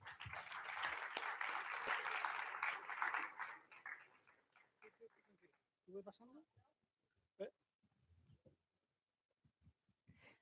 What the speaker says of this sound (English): Please, a huge applause for Ana.